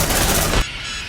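Sentry turrets in the game Aliens: Dark Descent firing a loud, dense burst of automatic gunfire that cuts off abruptly, leaving a low rumble behind.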